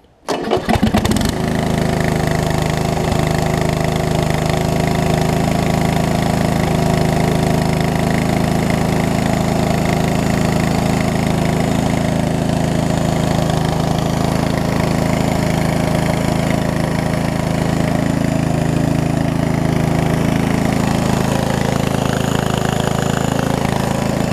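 A Murray widebody riding mower engine cranks briefly and catches, then runs steadily at a loud, even idle for over twenty seconds with a low droning hum.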